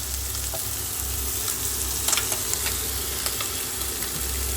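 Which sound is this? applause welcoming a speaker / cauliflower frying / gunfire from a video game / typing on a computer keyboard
cauliflower frying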